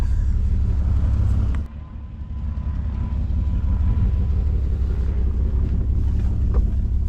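A cheap old Mercedes-Benz car drives along with a loud, steady low engine and road rumble mixed with wind buffeting on the microphone, briefly dipping after a sharp knock early on.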